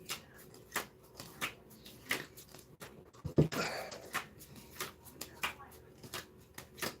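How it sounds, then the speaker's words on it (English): Playing cards being shuffled for a two-player game of Rummy 500, a run of brief riffling bursts and snaps at close range, spaced irregularly, with a louder flurry partway through and talk in between. "Well shuffled."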